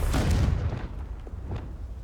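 The Confringo blasting spell exploding in the video game Hogwarts Legacy: a loud, deep blast at the start that decays into a rumbling tail, with a couple of smaller thuds following.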